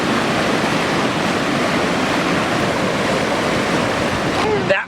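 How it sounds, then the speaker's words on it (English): Floodwater on the South River pours over a dam in a loud, continuous roar of rushing water, close and unbroken, with wind buffeting the microphone. "Got here to the South River and this flooding and whatnot."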